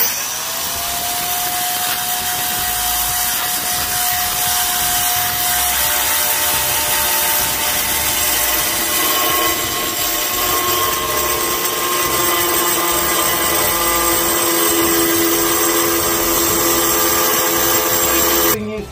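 Power saw cutting kitchen backsplash tile, a loud continuous whining grind that holds steady for the whole stretch with shifting pitch, close up and with no talking.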